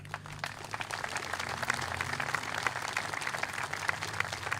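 An audience at a Bernie Sanders town hall applauds, a soft, steady patter of clapping heard from a distance and fairly faint throughout.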